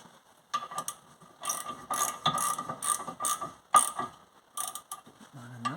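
Ratchet wrench clicking in bursts during rear brake work on a 2007 Vauxhall Astra H, close and fairly loud, with short pauses between runs of rapid ratcheting.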